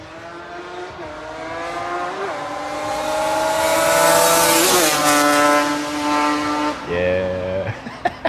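Yamaha Banshee two-stroke engine revving, pitch climbing and dropping through several sweeps with sharp blips at the end, loud and close, with faint voices underneath.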